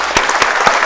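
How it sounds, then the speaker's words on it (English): A town-hall audience applauds Young Dro, a brief, loud burst of clapping with a few distinct sharp hand strikes standing out from the crowd. "Round of applause for Young Dro."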